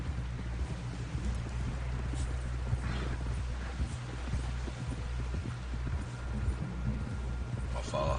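A horse's hooves clip-clop along at a walking pace during a ride in a video game, a steady rhythm of soft thuds heard close under wind and ambient noise, without talk over it.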